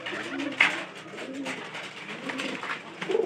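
Pigeons coo softly at close range in short, repeated throaty calls, with light rustling between them during hot-weather bathing.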